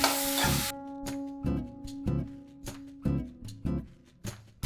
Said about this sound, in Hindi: अब हम इसमें कटी हुई शिमला मिर्च ऐड करेंगे।